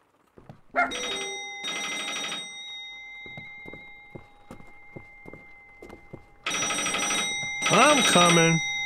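Telephone ringing in the Danny's House video game, two pairs of loud electronic ring bursts with a long gap between them. A steady hum and soft, evenly spaced footsteps fill the gap.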